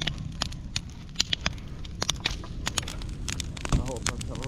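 An outdoor campfire crackles with sharp, irregular pops and snaps over rough wind noise, with voices in the background.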